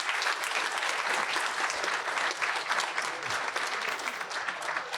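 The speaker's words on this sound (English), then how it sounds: "let's keep giving them another round of applause." Sustained applause from an audience at a leadership in diversity awards ceremony, dense and steady clapping that holds at an even level throughout without pause.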